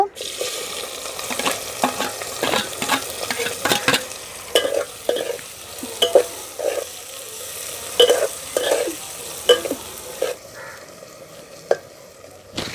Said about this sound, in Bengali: তেলটা গরম হয়ে গেছে আমি এখানে দুটো বড় পেঁয়াজ কুচি নিয়েছি দিয়ে দেব